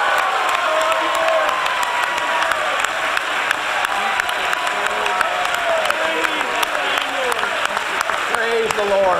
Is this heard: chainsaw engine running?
no